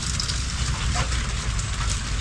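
Steady rain falls continuously on a farm field, a dense hiss of drops with a low rumble beneath, no voices.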